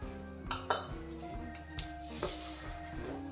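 Idli ingredients are washed together in a metal vessel, with a steady rattle and several sharper clinks and pings of grains and utensil against the pot, close and fairly loud.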